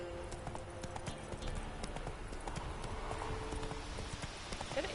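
Hooves clip-clop steadily as a horse gallops in The Witcher 3 video game, a fast continuous rhythm over soft ambient background noise throughout.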